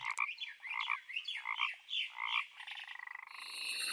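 Frogs croak in a layered woodland ambience built for a video game, a series of rhythmic rasping croaks close and clear, ending in a rapid trilling call with a faint high chirp behind.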